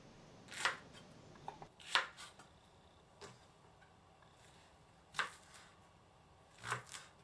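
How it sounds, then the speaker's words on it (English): A knife chopping green onions into 4 cm lengths on a board makes a few sparse, crisp cuts spaced a second or more apart, quiet and close against near silence. "Now, let's chop some green onions."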